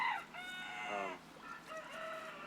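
Bantam roosters crow in a chicken house where the males are penned, several overlapping cock-a-doodle-doos rising over clucking hens, close and loud with no talk.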